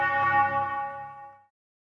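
A single struck bell from a bells track in a music mix rings out clearly with a bright harmonic tone, then fades smoothly into silence after about a second and a half.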